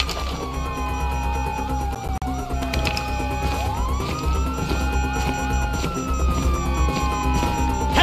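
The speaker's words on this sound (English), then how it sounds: "you hear that? Sirens!" Police sirens wail and sweep up and down in the GTA V prologue, several overlapping, loud and close amid crashes and action noise.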